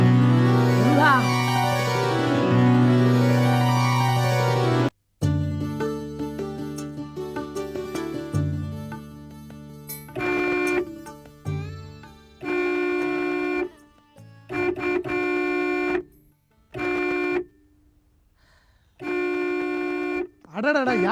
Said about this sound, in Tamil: இப்படி ஹார்ன் அடிக்கிறது உன் காதுல விழல?